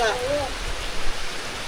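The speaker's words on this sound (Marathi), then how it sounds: "पाऊस मात्र भरपूर आहे, काय थांबायचं नाव नाही घेत आहे." Heavy monsoon rain in the Konkan countryside pours down as a continuous rushing hiss, with a brief tonal sound at the start and a voice faintly present beneath it.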